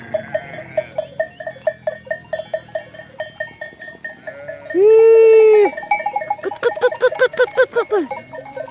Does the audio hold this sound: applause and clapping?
no